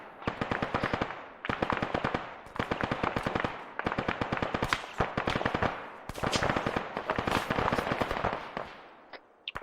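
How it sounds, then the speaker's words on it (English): Sustained automatic gunfire from a military simulation video game rattles in long, dense bursts separated by brief pauses, loud and close, with sharp individual cracks layered through the volleys. "Vic is taking fire through the smoke"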